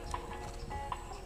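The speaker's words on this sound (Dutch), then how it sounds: "en hij bereidt paard Katrina van Talaert" Hoofbeats of a show jumper on a competition course, a few muffled thuds spaced at a steady canter pace against faint arena background noise.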